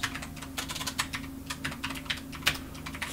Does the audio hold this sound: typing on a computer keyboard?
yes